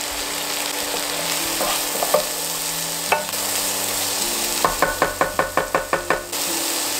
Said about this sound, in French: On va laisser rissoler pendant 5 minutes environ